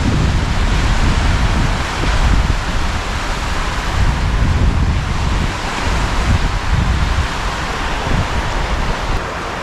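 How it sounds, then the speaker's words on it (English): Waves breaking steadily along the shore of a very large freshwater lake, a continuous loud wash of surf mixed with wind buffeting the microphone, with no talking. "It's a really big lake. Very big. It does look like the ocean."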